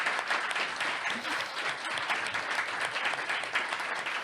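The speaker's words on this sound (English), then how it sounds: "Please give Evie another round of applause." An audience at a literary prize event for the 2021 Stella Prize applauds the winner with a dense, sustained round of clapping, and a few faint voices mix into the crowd.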